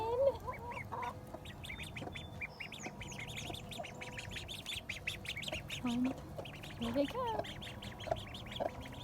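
Ducks quack noisily in a busy chorus, mixed with chickens, while a person speaks briefly over the din.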